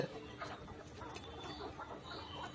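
Layer pullet chickens clucking softly in a poultry farm shed, low and continuous, with a busy background murmur of many birds.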